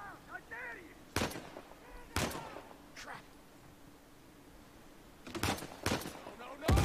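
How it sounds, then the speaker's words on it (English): Several sharp, loud blasts from a grenade launcher in the video game Uncharted 4, fired in bursts with pauses between, with a few isolated booms and some quieter background sound. "That's our grenade launcher, dude."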